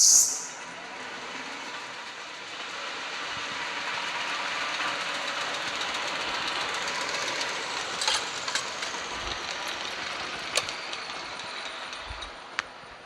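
Jute mill spinning machine switched on with heavy metal bobbins whirling fast, a steady loud mechanical whir and rattle after a brief start thump, with a few sharp clicks near the end and no voices.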